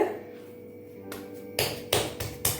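Hands patting maida pizza dough flat on a surface: a few soft, dull slaps spaced unevenly, close by, standing alone against a quiet room.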